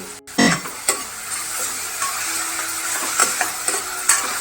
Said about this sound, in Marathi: कांदा चांगला सर परतून घ्यायचा